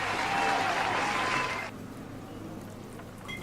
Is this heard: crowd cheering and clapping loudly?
yes